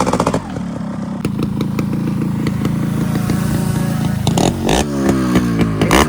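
A Yamaha RX motorcycle engine runs close by with a rattling two-stroke idle, then revs up with rising pitch sweeps near the end. The engine is loud and heard alone.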